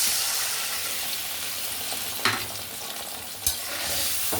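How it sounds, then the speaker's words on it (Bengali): A steady hiss of spice paste frying in a pan, with a couple of sharp scraping stirs cutting through the sizzle. "ভালো করে মশলাটা ভাজা ভাজা করে নেব।"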